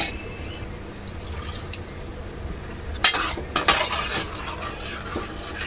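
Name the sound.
mixing coriander into a mixture with water in a pot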